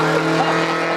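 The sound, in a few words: cars driving past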